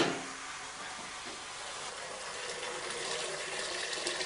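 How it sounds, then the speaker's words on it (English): Cold tap water pours steadily into a sink over root vegetables being rinsed, a continuous hissing splash close by with no voices. "rinse these out in cold water."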